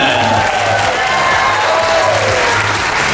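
Audience applause and cheering break out after a magician's card trick at a live stage show in Branson, a dense steady clapping wash with crowd noise that holds loud throughout.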